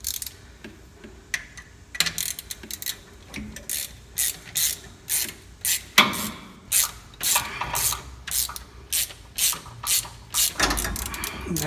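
A hand ratchet works loose the bolts on a car's AC compressor during an F100 to Crown Vic frame swap, giving long runs of rapid, close mechanical clicking in repeated bursts, with short pauses and a few heavier knocks between strokes.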